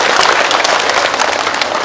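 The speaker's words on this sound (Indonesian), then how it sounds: "Tepuk tangan dulu dong buat Pak Bupati kita." A crowd at a large Isra Mi'raj religious gathering in Rokan Hulu claps loudly and steadily, a dense, close wash of applause that holds evenly throughout with no voices on top.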